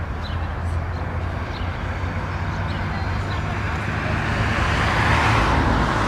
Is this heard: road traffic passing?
yes